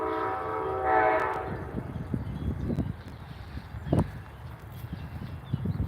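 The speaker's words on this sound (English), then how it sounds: "There's an Amtrak train coming through across the street there." Amtrak train rolling past across the street from a cemetery in Wallingford, Connecticut, a distant horn blast followed by steady rumble and rail clatter, heard outdoors at moderate distance.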